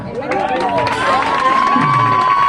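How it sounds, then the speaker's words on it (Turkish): An audience cheers and claps for a student orchestra after a concert, a dense wash of applause with whoops and raised voices throughout. "Orkestrama bir alkış mı alsak?"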